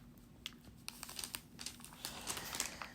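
A baby grabs and crumples paper close by, making quiet, irregular crinkles and tearing-like rustles in scattered bursts with no talking.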